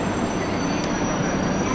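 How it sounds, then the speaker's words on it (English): A Beijing subway train rolls along with a loud, steady rumble of wheels on rail and a faint high squeal, heard up close from inside the car. "we're about to hop a subway here to Tiananmen Square and the Forbidden City"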